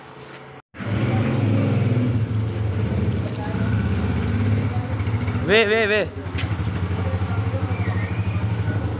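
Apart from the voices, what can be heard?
motorcycle engine of father's bike being brought out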